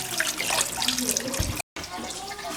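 Food, likely smoked herring, being washed piece by piece under a running kitchen tap, a steady close water rush with splashing, briefly cut off, while voices talk nearby.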